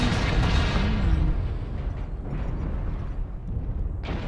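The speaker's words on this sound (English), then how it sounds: "Who the heck is shooting me?" Weapons fire and impacts strike a mech in MechWarrior Online, a continuous rumbling barrage of explosive booms, loud and close, filling the whole stretch without talk.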